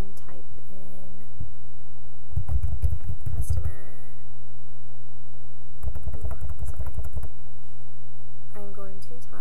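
Two short bursts of fast keystrokes on a computer keyboard, clicking close and clear over a steady low electrical hum, separated by a pause.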